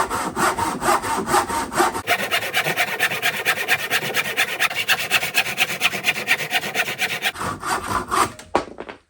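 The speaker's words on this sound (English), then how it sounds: "Next, smaller handsaw with the 11 teeth per inch blade." A Parkside handsaw with an 11 teeth-per-inch blade cuts through wood in steady, rapid back-and-forth strokes. The sawing is close and loud with no talk, pausing briefly near the start and again just before the end.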